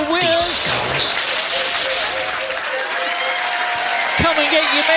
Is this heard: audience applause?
yes